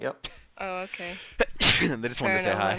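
A man sneezes once, a sharp loud burst in the middle of casual talk among several people.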